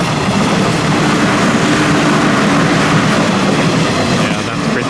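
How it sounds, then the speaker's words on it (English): A passenger train rolls past in Onomichi, a Japanese seaside city, crossing a non-steel bridge. The rumble is a steady, loud wash throughout, with no distinct clatter standing out. "I decided to wait for a train to pass by here because I think it might look cool actually"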